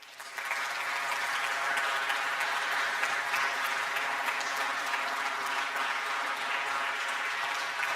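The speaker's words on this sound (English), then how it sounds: "it was a big applause" A keynote audience at a TYPO3 web camp applauds at length, a loud, full crowd clapping that swells in quickly after a brief quieter start and holds steady without letting up.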